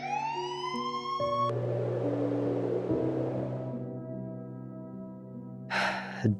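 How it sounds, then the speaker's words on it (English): A wailing police siren sweeps and holds amid layered tones, fading gradually, followed by a short burst of noisy hiss at the end. "The sirens drowned out the alarms."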